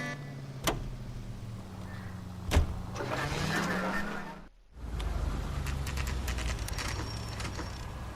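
A car drives in the video game L.A. Noire, a steady engine rumble with a rising tone as it pulls away, a couple of sharp clicks and a short dip mid-clip before the drone resumes.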